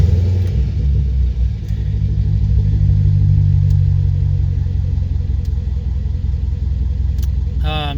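A car engine runs at a steady idle with a close, even low rumble throughout.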